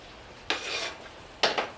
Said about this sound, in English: I'll put in the sliced onions.